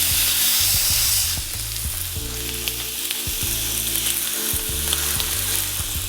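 Beef short ribs sear in a hot pan, pressed main side down, giving a loud, steady close-up sizzle and frying crackle throughout with no talking.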